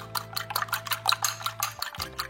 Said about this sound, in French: Simplement battre un œuf comme ceci.